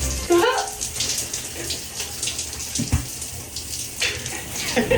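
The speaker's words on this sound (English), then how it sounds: "I quickly raced back to my room and hopped in the shower" A shower in a boat cabin runs with a steady, close hiss of falling water, with splashes and occasional thumps over it and no talking.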